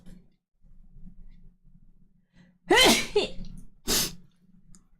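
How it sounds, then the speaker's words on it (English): Two sharp human sneezes close to the microphone, the first louder with a gasping lead-in, the second a shorter burst about a second later, over quiet breathing. "I need to sneeze."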